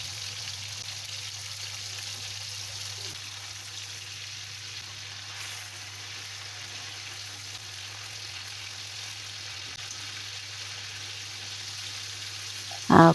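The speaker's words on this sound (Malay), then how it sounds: "Jom kita goreng ayam." Chicken frying in hot oil for a Malaysian sambal chicken dish gives off a steady, even sizzle that holds throughout with no talking.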